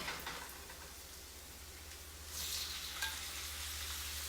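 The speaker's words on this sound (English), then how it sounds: "let's put the shrimp in there and let those cook" Shrimp frying in a pan for tacos, a quiet steady sizzle with a soft crackle that brightens partway through, with no talk.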